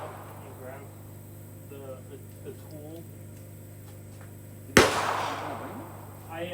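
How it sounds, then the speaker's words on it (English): A single sharp, loud report from a CZ 457 rifle fired at a 2-inch target during a pistol-class match, ringing briefly after the crack, with someone talking quietly before it over a steady low hum. "Shooting at the 2-inch target."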